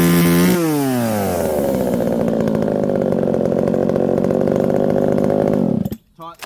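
A Holzfforma G372 XP chainsaw mills through a log, a loud, steady high-revving whine that dips in pitch as the chain bites, holding for several seconds before cutting off abruptly.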